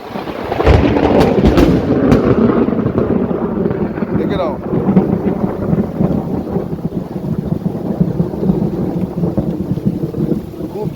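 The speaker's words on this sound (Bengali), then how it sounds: "আকাশ ডেকেছে" Deep thunder rumbles loudly and steadily before rain in a Sundarbans village, mixed with wind buffeting the microphone and faint rain-like noise.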